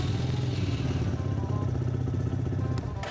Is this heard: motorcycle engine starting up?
yes